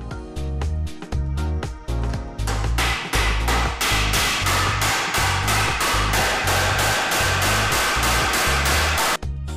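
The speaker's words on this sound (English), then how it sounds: "First, what I will do is put a nail through hardwood floor" Steady run of loud, close hammer strikes driving a nail into hardwood flooring, repeated rhythmic blows about twice a second with ringing impacts, no talk.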